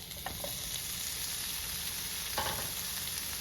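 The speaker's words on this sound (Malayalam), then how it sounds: "ഈ സമയം നമുക്ക് ഒരു തക്കാളി അരിഞ്ഞത് ഇതിലേക്ക് ചേർത്ത് കൊടുക്കാം" Chopped tomato going into a spiced onion masala frying in a pan, a continuous soft sizzle with a couple of brief stirring clatters, fairly quiet and close.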